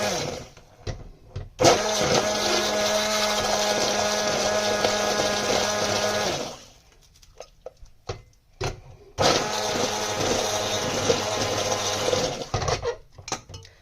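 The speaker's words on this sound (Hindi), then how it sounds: "अब ये मैंने इलेक्ट्रिक हैंड ब्लेंडर ली है, उसके बाद हम इसको पहले ब्लेंड करेंगे।" An electric hand blender whirs loudly in two long bursts separated by a pause, with clicks and clatter around each run, blending a soya and potato curry mixture.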